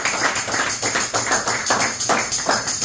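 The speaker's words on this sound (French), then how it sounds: "Applaudissez encore le Seigneur." A church congregation claps in rhythmic unison at a special worship meeting in Douala, Cameroon, the sharp claps falling in a steady, even beat that carries on throughout.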